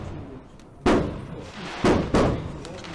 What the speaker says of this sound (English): There's a lot of fireworks going on from outside tonight.